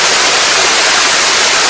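Waterfall in a forest, a loud, constant broadband rush of falling water heard up close with no other sounds.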